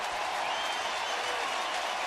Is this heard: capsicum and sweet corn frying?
no